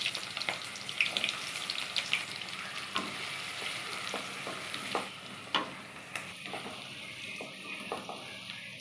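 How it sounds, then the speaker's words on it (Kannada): Mustard seeds, garlic and onion fry in hot oil, a steady close sizzle with scattered pops, crackles and a few stirring clinks throughout, no voices. "ಆಯಿಲ್ ಹಾಕ್ಕೊಂಡು ಅದರಲ್ಲಿ ಸಾಸಿವೆ ಹಾಕೊಂಡು ಬೆಳ್ಳುಳ್ಳಿ, ಈರುಳ್ಳಿ ಹಾಕಿ ಬೇಯಿಸ್ಕೊಳ್ಳೋಣ."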